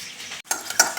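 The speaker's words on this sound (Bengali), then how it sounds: "এটা গুলে আমি রেডি করে রাখছি" Sauces such as Schezwan and tomato ketchup being stirred together in a bowl for chilli chicken, close up: a spoon scraping and clinking against the bowl in short bursts over about a second, with a brief pause in the middle and no talking.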